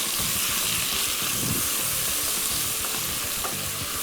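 A pan of potato curry with pickle sizzles steadily as it is stirred and mixed, giving a continuous loud frying hiss with soft scraping from the spoon.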